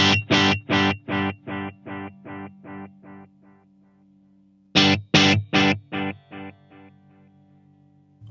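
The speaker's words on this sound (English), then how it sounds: "Let's turn off the reverb just so we can hear what the delay sounds like." Electric guitar run through a delay pedal with the reverb switched off, two bursts of repeated strummed chords echoing and decaying in steady rhythm, the first fading out before a second loud run begins; crunchy amp tone, no talking.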